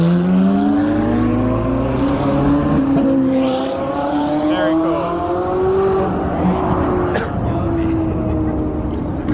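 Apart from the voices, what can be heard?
Lamborghinis and Ferraris launching off with engines revving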